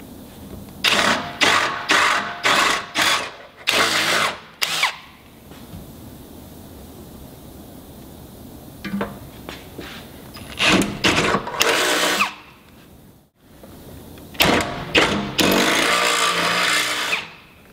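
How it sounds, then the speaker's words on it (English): An electric drill enlarging bolt holes in metal on a Land Rover Discovery 2 whirs in repeated short bursts, grouped in clusters with quiet pauses between, loud and close. "Now we'll just put the drill through here, make these holes big enough for our 10mm bolts."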